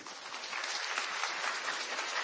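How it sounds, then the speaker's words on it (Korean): Lecture-hall audience applauding a professor after a talk on the Japanese economy, a brief burst of even, moderately quiet clapping with no voices. "교수님께 감사와 환호의 박수"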